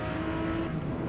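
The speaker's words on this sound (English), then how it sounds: "Sometimes you can hear the tire scrubbing quite a lot." Tires scrub under hard steering on a car in the racing game Forza Motorsport, a steady low grinding hum blended with the engine drone, brief and fairly soft.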